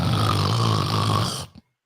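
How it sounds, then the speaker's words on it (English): A deep, loud snore from a sleeping person, one long rough rasping breath that cuts off abruptly into silence. "how could that rib cage produce such a deep snore?"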